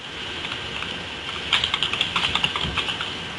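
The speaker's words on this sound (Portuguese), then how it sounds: "vai quebrar o teclado" Hard typing on a computer keyboard right next to the microphone, a quick run of sharp clacking keystrokes in a burst after a moment of hiss, loud and close with no talk.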